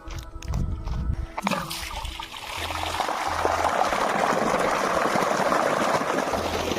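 Steady rushing water from a 60-foot borewell pours continuously, loud and close, after a few brief knocks and rustles at the start.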